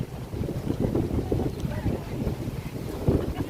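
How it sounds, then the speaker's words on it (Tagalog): Steady wind rushes and buffets across the microphone outdoors in the afternoon near Taft Avenue by Luneta Park, a constant low roar with faint background activity. "masarap po ang simoy ng hangin ngayong hapong ito."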